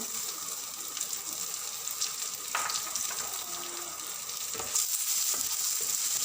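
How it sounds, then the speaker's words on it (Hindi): Ginger and garlic sizzle gently in a pan over low heat while preparing a taro root (arbi) curry. A soft, steady frying hiss carries a few light clinks and scrapes, with no talking. "अब इसी में मैं डाल दूंगी अदरक और लहसुन।"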